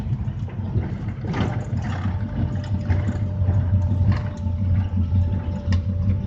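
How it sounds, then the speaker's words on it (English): An old car drives with its engine running steadily, a low rumbling drone with road noise heard from inside the cabin, continuous and fairly loud, with no talk. "All in all, the car drives pretty good."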